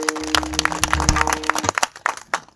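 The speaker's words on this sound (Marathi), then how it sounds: "एकदा जोरात टाळी वाजवा बघा" Audience members at a devotional kirtan clap in scattered, irregular sharp claps that thin out toward the end, with a low sustained hum underneath.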